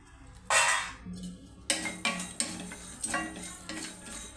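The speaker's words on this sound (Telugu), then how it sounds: "చూడండి ధనియాలు అన్నీ బాగా వేగాయండి" Coriander seeds dry-roasting in a pan on the stove for a chicken fry masala, with a spoon scraping and stirring in a run of short rhythmic strokes over a faint sizzle, close and fairly loud.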